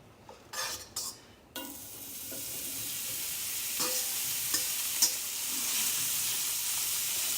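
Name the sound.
ham frying in oil with potatoes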